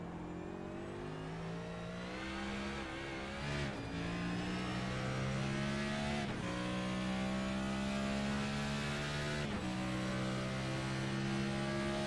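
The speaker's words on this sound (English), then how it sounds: "Listen to how he's managing that throttle too, kind of getting back onto gas." Race car engine in a racing video game revving steadily, with the throttle lifting and reapplied at a few points and a continuous loud whine of rising and falling engine pitch throughout, no voices.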